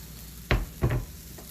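Diced sweet potatoes tumble into a hot, oil-sprayed pan for al pastor tacos. Two quick thumps and rattles land close by, followed by a faint sizzle, with no talking.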